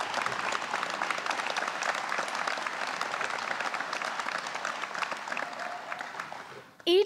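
Audience applause at a Penn alumni awards event honoring leading volunteers, steady broadband clapping that fills the room for several seconds before tapering off near the end.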